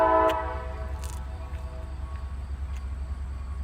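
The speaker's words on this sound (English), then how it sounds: "And here comes the train." A train horn sounds loud and near at the start, a sustained blast that cuts off within half a second, then a steady low rumble of the passing train continues underneath with a few faint clanks, no talk.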